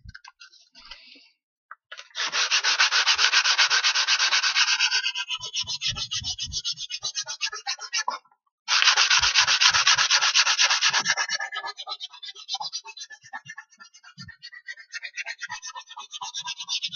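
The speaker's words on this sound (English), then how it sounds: "I give it a good sanding." Hand sanding of a wooden model boat part rasps in long, continuous strokes, a dry scratchy rubbing that pauses briefly midway, then resumes and tapers into lighter scraping.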